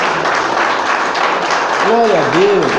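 A church congregation claps together in steady, sustained applause, with a voice calling out over the clapping toward the end.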